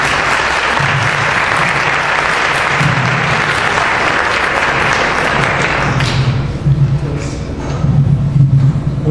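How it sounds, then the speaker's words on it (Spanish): An audience at an academic lecture event claps loudly and steadily for several seconds, a dense wash of hands that thins out and turns patchier near the end, with some low thumps. "Recibámoslo con un fuerte aplauso,"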